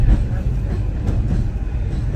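Saraighat Express train (12345, Howrah to Guwahati) rolling onto the Farakka bridge over the Ganga, a steady low rumble and rattle of carriages heard from on board, loud and continuous.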